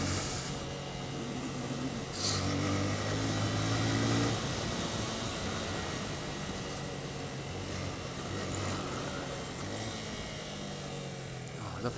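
A Yamaha FZS 150 motorcycle rides a rough mountain road near Pokhara, Nepal, its engine a steady close drone mixed with wind rush and a brief surge in load, and a rider speaks now and then.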